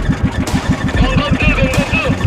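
A flooded boat engine at sea sputters and turns over in quick, even pulses, a loud, close, rough mid-pitched chug with people talking over it.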